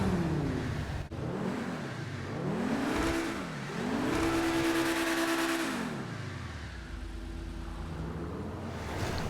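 A Pegassi Ignus hybrid sports car engine in GTA 5 revs and shifts through gears, pitch climbing and falling repeatedly, loud and close with a steady roar throughout.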